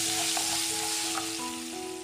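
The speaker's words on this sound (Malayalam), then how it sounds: "അതേ എണ്ണയിലേക്ക് തന്നെ നമുക്ക് ചെറിയ ഉള്ളി ഒരു 10 എണ്ണം അരിഞ്ഞത് ഇട്ട് കൊടുക്കാം." Chopped shallots drop into hot oil already used for frying, producing a loud, dense, continuous sizzle close by, with a few faint clinks over the hiss.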